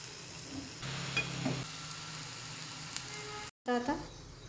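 Besan dhirda batter hits a hot pan and sizzles, soft crackling frying with faint stirring or scraping, briefly broken by a short gap before the sizzle resumes, with a voice speaking at moments.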